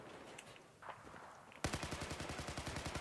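Automatic gunfire bursts out in a Battlefield 4 match, a rapid, close rattle of repeated shots that starts abruptly after a quieter stretch of faint game ambience.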